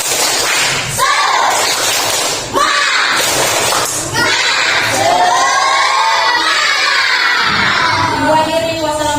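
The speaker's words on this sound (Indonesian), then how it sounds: "Tepuk semangat." Schoolchildren in an Indonesian classroom doing a spirit clap chant, loud young voices shouting in unison with bursts of rhythmic clapping and thumps, the chant rising into an excited cheer.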